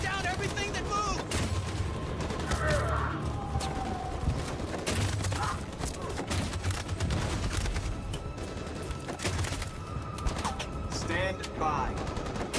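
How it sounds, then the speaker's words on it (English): Machine gun fire during the battle for Detroit in Detroit: Become Human, sustained rapid bursts with explosions and chaotic battlefield noise, voices shouting over the din. "That machine gun has taken down everything that moves!"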